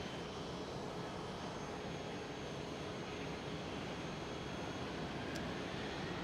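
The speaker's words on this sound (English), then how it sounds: "Taxiing into the gate is Air Arabia Morocco." Air Arabia Morocco airliner taxiing toward the gate at Amsterdam Schiphol, a steady, broadband, fairly faint engine rumble and whoosh heard from a distance, unchanging throughout, without voices.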